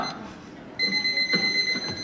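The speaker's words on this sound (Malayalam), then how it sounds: "അലാറം അടിക്കുമ്പോ എന്താ പരിപാടി?" An alarm clock in a Mr. Bean morning scene starts ringing partway through, a steady high electronic tone over faint background sounds.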